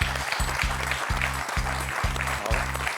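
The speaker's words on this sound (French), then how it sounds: "Mais là, on peut applaudir Jean-Vincent quand même." Steady studio audience applause on a French TV quiz show, with a rhythmic low thumping beat running underneath at a regular pulse.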